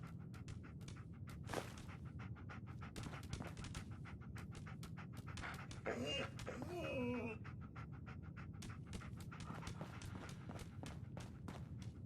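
A dog pants steadily in Fallout 4, rapid rhythmic breaths running through the scene under a constant low game ambience, with a brief burst of other game sound midway.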